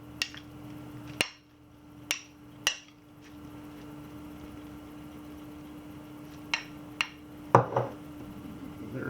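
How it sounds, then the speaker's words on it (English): Marinated wild-caught steelhead trout being stirred in a container, heard as a few sharp, close clinks and taps of a utensil spaced irregularly over a quiet background hum, with no talk. "I'll just stir it up like this to mix it."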